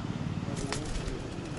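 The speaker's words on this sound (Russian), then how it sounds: "Вот они там все сидят, голуби." Pigeons perched outdoors on a city street give soft, low coos, faint and partly masked by steady street background noise.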